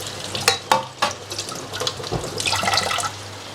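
Tap water runs into a kitchen sink while a big spoon is rinsed under it; a few clear clanks of the spoon come early, then a steady close splashing flow, with no voices.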